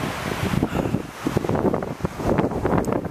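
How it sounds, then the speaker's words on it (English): Fierce gusts of near hurricane-force wind buffet the microphone beside a lake, roaring in uneven surges with choppy waves splashing underneath. "these winds are just way too fierce"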